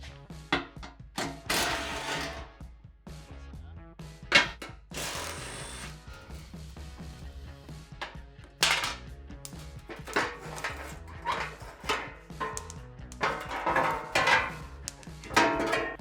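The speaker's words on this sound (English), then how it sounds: "All right, now the skid plate's coming out. We got 2 bolts in the back that are 10mm, 2 up front that are 12." Removing skid plate bolts (10 mm and 12 mm) during a Jeep front bumper install produces repeated ratchet clicks, metallic clanks and tool handling, irregular and close, with quieter gaps between bursts.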